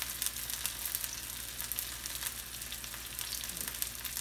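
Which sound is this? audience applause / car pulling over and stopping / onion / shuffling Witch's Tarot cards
onion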